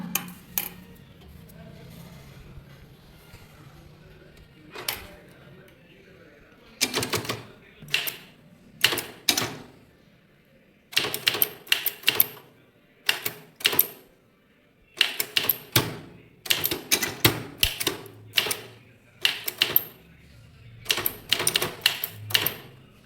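Rapid bursts of typewriter keystrokes tapping out a legal letter, clattering in quick irregular runs with short pauses between lines, close and crisp.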